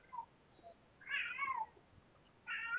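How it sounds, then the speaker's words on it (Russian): A cat meowing at a roadside eatery in Gurzuf, Crimea, three short, faint meows spaced apart, with quiet background. "Мяукает. Мяу, мяу, мяу."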